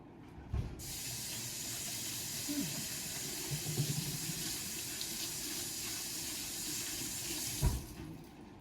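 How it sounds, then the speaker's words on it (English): A kitchen faucet runs as hands are rinsed beneath it, a steady close hiss of water lasting several seconds, opening and closing with soft thumps and splashes, no voices. "Let me rinse my hands off right quick."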